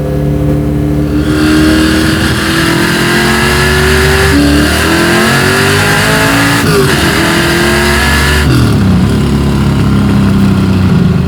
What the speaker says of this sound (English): I love the 302s stroked out. They're just nice, man. Such a great engine.